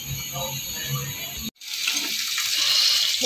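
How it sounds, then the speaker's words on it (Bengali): Fish being rinsed in a kitchen under a running tap: a steady rush of water that cuts out briefly midway, then pours on more brightly, with no speech. "এগুলো আমি ভালো করে আরেকটু ধুয়ে নিই"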